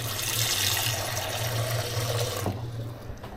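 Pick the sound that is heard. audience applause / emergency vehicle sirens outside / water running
water running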